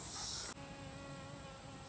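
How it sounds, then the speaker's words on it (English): A bee buzzes close by outdoors at a crossbow shooting session, a faint steady drone that cuts off abruptly after about half a second and leaves a quieter continuous hum. "Getting B-roll of the bee."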